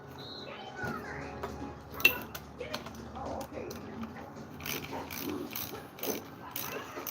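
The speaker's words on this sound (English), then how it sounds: "Then we're going to need a large socket for the toggle switch. Take that off." A socket wrench ratchets off the toggle switch of a chainsaw being restored, giving close, crisp clicking bursts that come in uneven runs over a low background hum.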